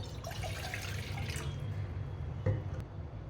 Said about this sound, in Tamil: அதில் நம்ம எடுத்து வச்சுருக்கிற ஒரு கிளாஸ் தண்ணியை சேர்த்துக்கலாம்